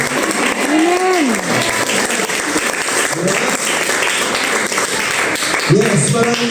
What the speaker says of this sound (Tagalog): Yung pumapalakpak ka ng malakas at sinisigaw ng amen.